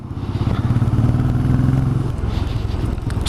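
A 2020 Benelli 400 Imperiale motorcycle engine runs close by with a deep, steady thudding pulse and mechanical clatter, and no talk.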